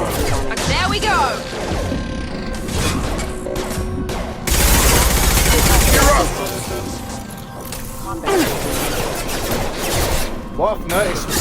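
Bursts of assault rifle fire crack out in a Mass Effect 2 firefight, loud and close, with a heavy flurry of shots in the middle and scattered impacts after, under ongoing talk.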